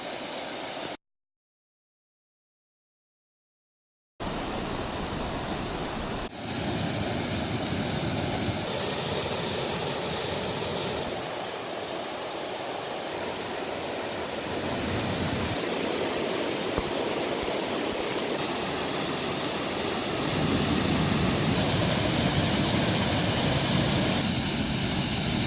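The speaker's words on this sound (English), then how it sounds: "Right here we got a small little cool waterfall." Small waterfall along a creek hike in Oregon, a steady broadband rush of falling water that holds close and constant throughout, briefly cut out near the start, with no talking.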